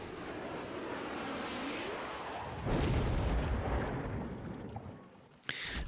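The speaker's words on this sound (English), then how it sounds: "there's the Missile Strike" Missile strike explosion in a video game, a deep heavy boom that swells and rumbles for a few seconds before fading, followed by a brief sharp crack.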